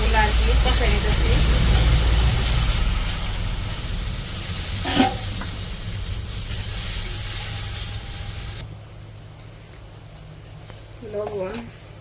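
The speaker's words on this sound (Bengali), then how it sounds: "এটা হচ্ছে সবজি কষানোর জন্য মশলাগুলো আর কি কষাই নিতেছি" Spices sizzle and fry in a pan for a vegetable curry, a constant loud hiss with occasional stirring clatter, fading lower and quieter near the end, with a voice talking over it.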